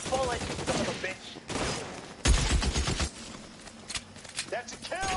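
Gunfire in L.A. Noire: sharp shots and bursts in a city shootout, a heavy loud volley near the middle, with shouting voices between the shots.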